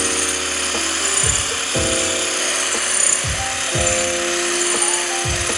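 A drill bores out spot welds to free the silencer from a Zard exhaust for a Triumph Scrambler 1200, its motor whirring steadily with repeated short grinding bites and brief pauses between passes.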